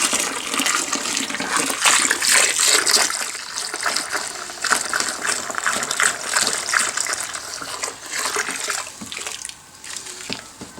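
A gallon of water poured from a jug into a truck's tank, a splashing gush that rises and falls in uneven surges for several seconds before tapering off.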